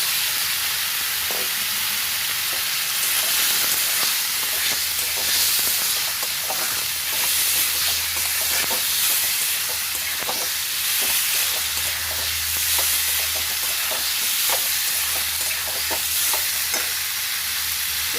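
Potatoes frying in a pan on a home stove, giving a steady loud sizzle and hiss throughout, broken by repeated scraping stirs and light clinks with no talk.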